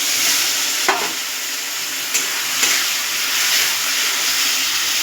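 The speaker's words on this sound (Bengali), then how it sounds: "এবার আমি এর মধ্যে এই মশলাটা দিয়ে দেবো।" A spice paste fries loudly with potatoes, onion and tomato for a Bengali bhola fish curry, giving a steady close sizzle and hiss with a few soft clicks of stirring.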